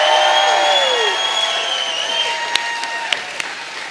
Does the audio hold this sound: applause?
yes